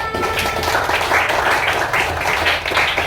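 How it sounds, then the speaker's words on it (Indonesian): Classroom applause from students, a dense patter of hand claps filling the room at moderate loudness and continuing steadily for a few seconds. "Oke, beri tepuk tangan."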